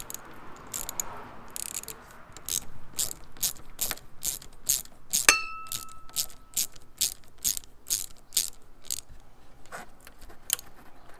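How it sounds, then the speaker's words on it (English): A ratchet with a 7mm socket clicks in quick bursts while undoing a Jubilee clip on a second-generation Mini Cooper S intake, rapid close pawl clicks in repeated strokes with a brief metallic ping, no talk. "Next is actually to undo this Jubilee clip here. So that's a 7mm socket."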